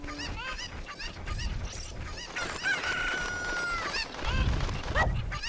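Cucco chickens in the Ocarina of Time video game let out a run of loud, repeated squawking clucks and crowing cries, close and insistent across the whole stretch.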